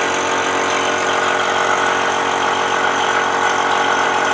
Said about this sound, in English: I'll just hook it up quick and then you can see what it looks like when it's under vacuum.